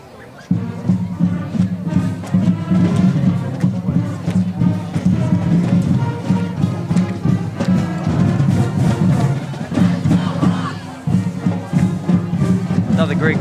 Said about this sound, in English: Another great crowd on hand here at Morgan Bowl.